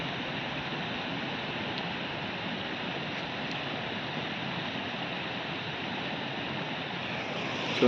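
Steady rushing of flowing water, constant and unbroken throughout, like a stream or channel nearby with a faint breezy hiss.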